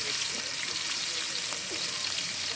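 One kilogram of onions frying in oil with cinnamon, cloves and cardamom for chicken masala biryani, a dense, even sizzle holding steady from start to finish with a faint clink near the middle.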